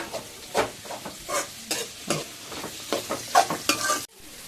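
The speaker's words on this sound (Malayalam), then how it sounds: "ഒരു 3-4 പച്ചമുളകും കൂടെ അതും കൂട്ടൊന്ന് വഴറ്റുവാണ്" Shallots, small onion and three or four green chilies sauté in a pan for a bitter-gourd theeyal, sizzling close by while the spoon scrapes in uneven strokes, then the sound cuts off abruptly.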